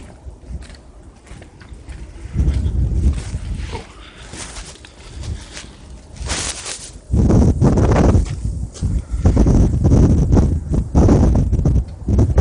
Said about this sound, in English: it's just not frozen like yesterday, but there's much more wind.